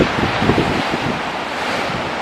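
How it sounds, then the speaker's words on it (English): Choppy sea waves wash steadily onto a North Sea beach, a broad continuous roar of surf mixed with gusty wind buffeting the microphone, loud and close throughout with no voices. "I love it when the sea's choppy like that."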